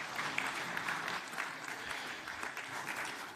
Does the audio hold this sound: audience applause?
yes